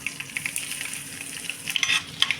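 Chana dal, mustard seeds, cumin and dried red chillies crackle and sizzle in hot oil as a tempering, with a steady frying hiss broken by sharp popping seeds and light stirring scrapes.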